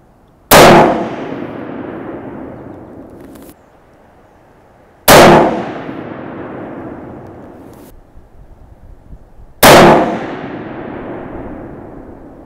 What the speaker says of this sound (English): And I'm shooting Winchester Power Points, 140 grain.